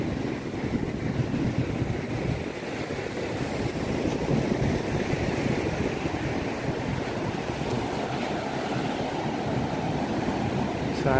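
Large ocean waves surge at Pacar beach in Tulungagung, a loud, continuous roar of surf mixed with wind buffeting the microphone, steady throughout with no talking.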